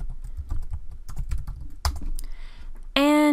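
Someone types on a computer keyboard in a short, nearby flurry of key clicks with one harder tap, and a loud electronic tone cuts in at the end.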